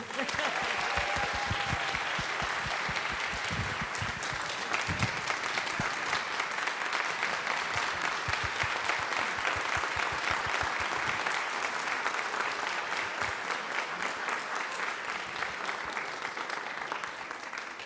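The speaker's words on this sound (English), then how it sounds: "One more applause." Steady audience applause at an annual lecture and award ceremony, a long, even wash of many hands clapping, moderately loud and continuous throughout with no speech over it.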